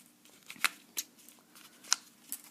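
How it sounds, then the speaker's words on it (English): Scissors snip sewing thread after back-tack stitching on a fabric pincushion, giving a few quiet, sharp clicks spaced about half a second apart against a faint, near-silent room. "from here I'm going to cut off my thread"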